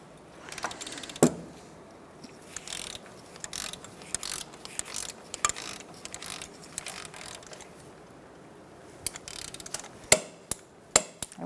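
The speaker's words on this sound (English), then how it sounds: "I'm going to snug it up and then torque it" A ratchet and torque wrench tighten the outer tie rod nut on a 2004–2009 Mazda 3, giving sparse close mechanical clicks and metallic clatters with quiet gaps, plus a cluster of sharp ticks near the end.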